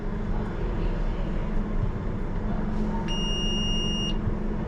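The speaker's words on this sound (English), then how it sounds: "That's just the intruder alarm for the back cab." Intruder alarm buzzing from the back cab of a Piccadilly Line train during engineering works, a steady electronic tone over a low continuous hum of the cab, with a brief brighter beep near the end.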